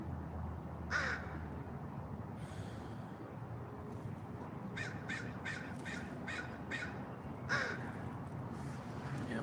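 Crows caw outdoors. A few single calls come first, then a quick run of five or six caws, then another lone call, all at moderate distance over a soft, steady background hum.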